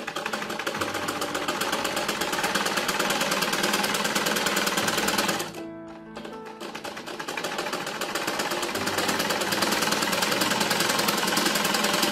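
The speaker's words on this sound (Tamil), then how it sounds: "ரெண்டு துணியையுமே சேர்த்து ஃபர்ஸ்ட் நம்ம ஒரு 1/2 inch தள்ளி ஒரு தையல் நேரா போட போறோம்" A sewing machine stitches two layers of lungi fabric together in a straight seam, a loud steady rapid mechanical rattle that runs throughout, briefly slowing and quieting in the middle before resuming at full speed.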